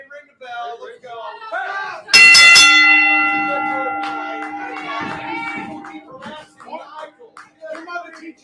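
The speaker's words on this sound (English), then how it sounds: "Ring the bell." A wrestling ring bell is struck hard, a bright metallic clang that rings out and slowly decays over several seconds while voices talk before and over it.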